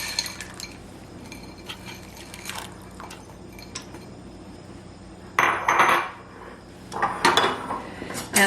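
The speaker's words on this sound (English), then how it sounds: "I'm putting in about 2 cups of frozen corn" Frozen corn goes into a pot of turkey tortilla soup being prepared for pressure canning, heard as scattered light clinks and ticks followed by two louder bursts of kernels clattering and rattling into the pot.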